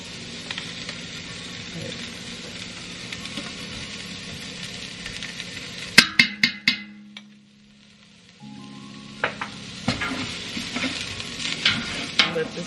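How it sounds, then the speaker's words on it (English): Minced garlic added to onions already cooking in a pan, sizzling steadily with a burst of sharp clatter and stirring as it goes in, then a brief quieter pause before the frying resumes with scattered scrapes. "Okay, so now I'm going to add my minced garlic."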